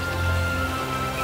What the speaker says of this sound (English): it's just the leftover water droplets falling off the tree leaves